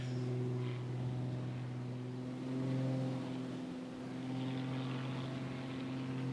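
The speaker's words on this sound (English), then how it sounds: "He's got a huge amount of horsepower in this ridiculous aeroplane, heavily modified by Rich himself" Heavily modified, high-horsepower aerobatic propeller aeroplane flying an airshow display, a loud steady engine drone with a strong low propeller hum that swells and fades slightly as it passes, with no voices.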